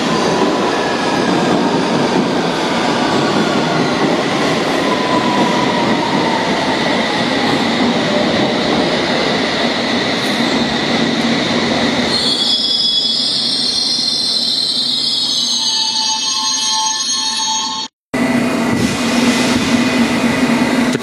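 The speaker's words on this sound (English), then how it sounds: "I think I can hear another train coming in." A District line underground train pulls into Fulham Broadway at night, with a loud rolling rumble and clatter that grows into screeching wheel squeal and high brake tones as it slows at the platform.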